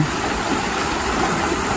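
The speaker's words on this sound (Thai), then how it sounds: "น้ำไหลเชี่ยวแล้วเนาะคะนี่" A fast-flowing stream rushes at a countryside spot, a loud, close, continuous watery roar with no break and no voices.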